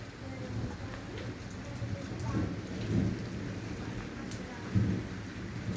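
Steady rain pouring outdoors during a July thunderstorm with frequent lightning, with low rumbles of thunder swelling and fading beneath the constant hiss.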